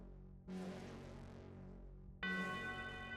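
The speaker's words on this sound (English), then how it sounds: "The telltale tubular bell that goes off. That General MIDI bell." A General MIDI tubular bell from the Gabriel Knight main theme strikes twice, each hit a bright metallic clang with a long ringing decay, the second louder and more shimmering.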